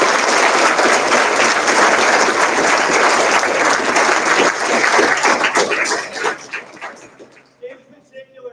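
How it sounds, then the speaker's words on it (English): Applause at a JROTC birthday ball celebration, a crowd clapping loudly and continuously before thinning out into scattered claps and fading. "Let's give them all a round of applause."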